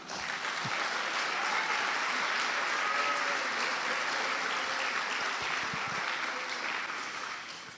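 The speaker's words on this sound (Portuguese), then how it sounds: "Dê uma salva de palmas." Sustained applause from an audience at an Easter celebration service, a dense, steady wash of clapping that holds loud and even for several seconds before tapering slightly at the end.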